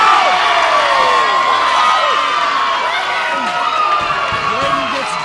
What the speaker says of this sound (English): The crowd is electric here in Florence, Alabama.